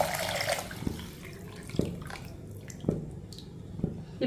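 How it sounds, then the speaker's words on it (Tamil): Beetroot and carrot juice is poured into a pot of turmeric-seasoned weight-loss soup, giving a brief splashing pour followed by a few scattered, close drips and clinks, with no talking. "பீட்ரூட் கேரட்டு ஜூஸை தூக்கி அதில் ஊற்றிடுவோம்."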